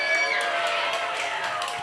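Children at a summer kids' camp give a short round of cheering and clapping for the volunteers, a brief burst of overlapping voices and applause heard from a moderate distance.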